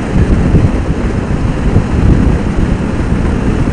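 Heavy wind buffeting a rider heading into a headwind on a Yamaha Vaquero motorcycle with its 4-inch visor removed, a loud, continuous low roar and rumble with no break.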